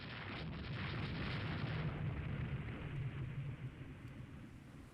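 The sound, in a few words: naval gunfire from warships in the video game Rule the Waves 3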